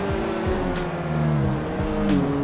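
A car in GTA V accelerating hard, engine revving up through gear shifts with rising and falling pitch, loud and close, with a faint tire squeal and no talking.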